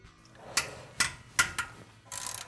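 Ratchet loosening bolts on the CVT clutch of a Polaris RZR XP side-by-side, several sharp separate clicks and then a quick rattling run of clicks, fairly faint in a quiet workshop.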